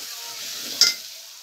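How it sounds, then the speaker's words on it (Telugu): Mutton masala with a spoonful of yogurt frying in a pan gives a steady, soft sizzling hiss, with one brief louder crackle partway through before it settles back down. "బాగా మనం 2 నిమిషాల దాకా మనం బాగా వేయించుకున్నాం"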